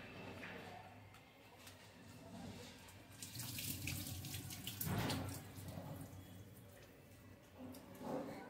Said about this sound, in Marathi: चांगली 2-3 पाण्याने धुतली ना डाळ स्वच्छ